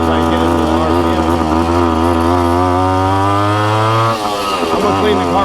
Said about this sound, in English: See right there on the downshift, I get into the RPM.